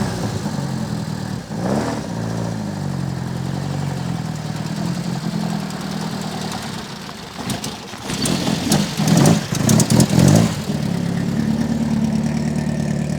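A slightly modified 1988 Alfa Romeo 33 1.7 race car engine runs steadily at a low, throbbing drone, then swells louder as it revs and accelerates near the end, with no talking.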